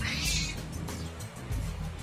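A cat meows indoors in a kitchen while food is being cut up, a short tonal cry standing out over steady background noise.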